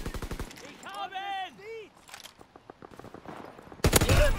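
Call of Duty WWII game gunfire bursts at the start, then brief sharp shots pop under in-game speech before loud, sustained automatic fire closes.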